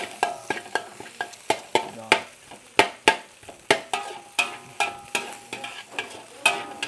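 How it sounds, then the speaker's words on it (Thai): Egg fried rice is stir-fried in a wok, with a spatula scraping and clanking in a steady rhythm over a soft sizzle, close by, without talk. "คิดถึงเสียงกระทะเนาะไม่ได้ยินหลายวันเนาะ"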